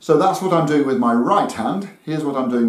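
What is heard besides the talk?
None of the usual background noises is heard.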